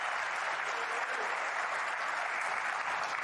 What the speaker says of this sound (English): There's the cheer from the crowd